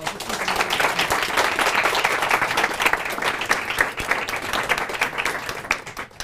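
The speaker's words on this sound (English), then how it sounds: "Can we get a round of applause?" A room full of people applauds steadily for about six seconds after two panel guests finish, dense even clapping that holds strong throughout and fades slightly at the very end.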